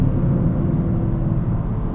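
Engine of a 2023 Toyota GR Corolla while street driving, a steady, loud low drone and rumble from inside the cabin with no change in pitch and no talking.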